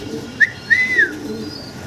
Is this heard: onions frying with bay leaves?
no